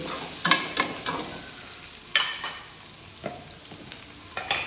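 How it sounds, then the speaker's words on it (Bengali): Garlic fries in a pan during cooking of ridge gourd with shrimp, with a steady close sizzle and repeated louder scraping stirs against the pan, and no talk. "এবার এটাকে একটু ভেজে নিই"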